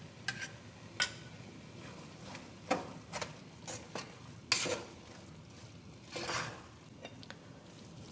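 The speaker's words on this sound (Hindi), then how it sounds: "अब घी डाल के थोड़ा सा भूनेंगे" Gajar ka halwa, grated carrot cooking in ghee, is stirred in a pan: spaced scrapes and clinks of the spoon over a soft sizzle, quiet and close.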